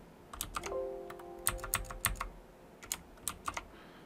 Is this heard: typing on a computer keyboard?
yes